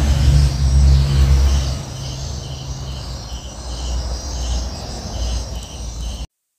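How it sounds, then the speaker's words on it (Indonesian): An electric mixer running at low speed, blending granulated sugar into cake batter for a steamed zebra sponge, producing a steady motor hum with a slight dip partway before cutting off at the end. "Kemudian kita mixer dengan kecepatan rendah dulu ya."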